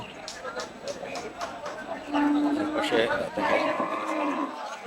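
Cattle low amid a busy livestock market in Sitakunda, Chattogram, with a drawn-out moo rising over a noisy crowd and nearby talk.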